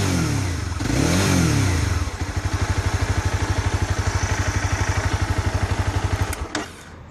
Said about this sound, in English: As you can imagine from a 300 bike, the sound is not all that impressive through the stock pipe.